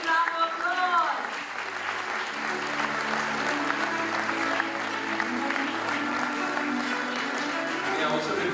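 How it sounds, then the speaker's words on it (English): Audience applause at a health awards ceremony, a sustained wash of clapping from a crowd while music or voices carry on underneath throughout. "Please welcome him with a big round of applause."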